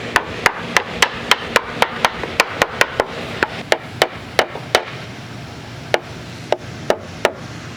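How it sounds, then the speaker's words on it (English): A wooden board on an old rotten Victorian porch is tapped into place with a hammer, delivering a quick run of sharp, evenly spaced knocks that slow to scattered single blows, close and loud with no talk. "let's go ahead and just tap it in a little bit"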